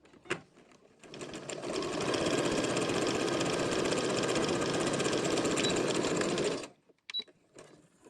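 Domestic sewing machine running a seam along a fabric edge, sewing without an overlocker: a steady, close, fast mechanical whir and rattle that starts after a second, holds for about five and a half seconds, then stops.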